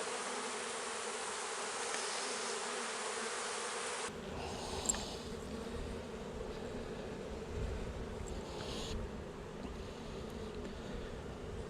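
Dense, steady buzzing of many honeybees on a hive frame close by, a continuous droning hum that holds throughout with no talking.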